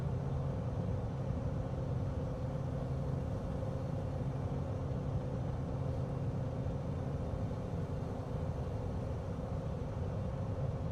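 Steady, loud engine drone from a light aircraft in Microsoft Flight Simulator 2024, revving high while rolling on a grass runway, a continuous rumble with no voices.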